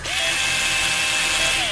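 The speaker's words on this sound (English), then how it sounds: "get the drill" Power drill whirring at steady speed, loud and close, with a brief spin-up and wind-down at the ends.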